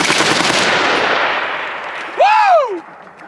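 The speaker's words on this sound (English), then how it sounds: "I picked out a fun little gun. That's right. The RPD, of course." An RPD machine gun fires at an outdoor shooting range, a loud burst fading into a long ringing decay, followed by a short whooping cheer.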